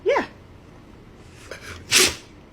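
A dog gives a sharp sneeze, followed by a softer snort and a second, louder sneeze, close and with no talking.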